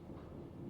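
A train car rolls along in the game Post Trauma, a brief faint low rumble heard alone.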